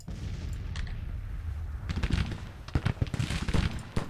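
Musket volleys and artillery fire in the Grand Tactician Civil War strategy game, starting as a distant rumble and then building into dense, overlapping bursts of crackling shots and booming thuds, with no voices.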